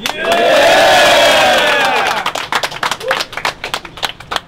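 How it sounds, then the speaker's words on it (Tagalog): A street crowd at a Tanza, Cavite battle night erupts in loud, close cheering and screaming that peaks early, then breaks into scattered claps and shouts as it fades. "parinig ng hiyawan at sigawan sa lahat ng mga pabor kay Papew."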